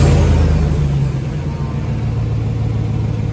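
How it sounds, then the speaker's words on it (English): A 2015 Chevy Silverado with Purple Hornies exhaust and its catalytic converter removed rumbles loudly and close, a dense, steady low engine drone with no talk. "Let's go ahead and fire it up, see what it sounds like."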